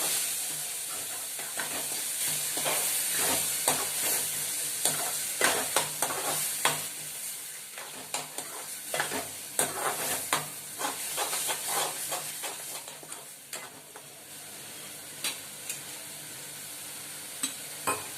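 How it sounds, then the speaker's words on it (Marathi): Masala for a Malvani-style egg curry is stirred and sautéed in a pan, giving a continuous close frying hiss broken by scraping spoon strokes and clatters that thin out toward the end. "आपण चांगलं परतून घेऊया।"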